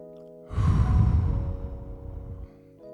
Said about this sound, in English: And another deep breath.